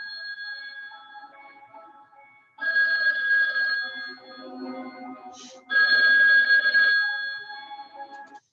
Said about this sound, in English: they got the old school phone